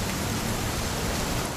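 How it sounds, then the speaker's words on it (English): Rain in the game What Remains of Edith Finch, a loud, dense, continuous downpour hiss filling the scene evenly and close. "It's going to rain the whole weekend, isn't it?"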